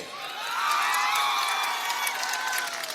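A large crowd at a political election rally in Katihar, Bihar cheers and applauds with a steady, dense roar of clapping and shouts, loud and sustained throughout.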